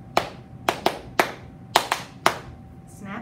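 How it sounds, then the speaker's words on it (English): Hands clapping as body percussion: six sharp, close claps in a loose, uneven rhythm, with a faint voice starting at the very end. "Clapping"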